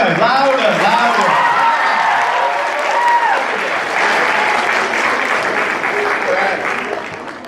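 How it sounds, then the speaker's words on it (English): An audience bursts into loud, sustained applause, with voices calling out over the clapping before it gradually tapers off toward the end. "Everyone give Xavier a round of applause."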